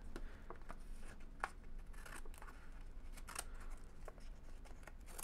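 Scissors snip and crackle through a vinyl decal sheet being trimmed to fit around model tires, a series of small sharp cuts and rustles close by, with no speech.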